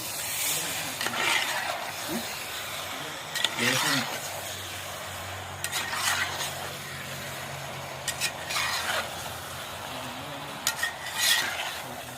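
Spicy pepper chicken masala stirred in a pan at a village outdoor cooking spot, with periodic scraping and clanking spoon strokes over a soft sizzle, and a voice talking in places.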